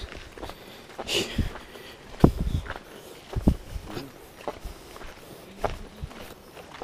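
Irregular footsteps crunching along an outdoor path, close to the microphone, with uneven spacing and occasional heavier scuffs.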